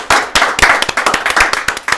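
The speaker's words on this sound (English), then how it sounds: "Round of applause for the live" A live studio audience gives a round of applause, a close, loud, uneven run of sharp individual claps from a small group, with no voices over it.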